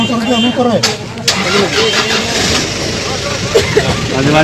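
A motorbike engine cranks and catches, then runs with an uneven mid-pitched putter, close and fairly loud, while voices talk over it.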